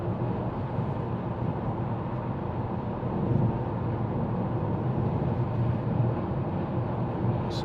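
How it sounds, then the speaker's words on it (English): A 2013 Volvo V40 Cross Country D3, a 2.0-litre diesel, accelerates with a steady, loud drone of engine and road noise heard from inside the cabin, swelling slightly partway through. "the car's accelerating away."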